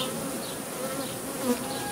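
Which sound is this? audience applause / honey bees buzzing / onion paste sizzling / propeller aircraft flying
honey bees buzzing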